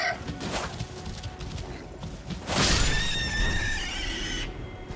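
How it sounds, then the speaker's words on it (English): A horse whinnies in a video game, a loud, high, wavering neigh rising midway and holding over steady background game sounds. "I'm on a horse."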